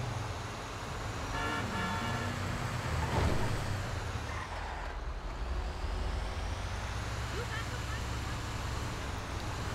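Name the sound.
garbage truck driving on highway in GTA 5 video game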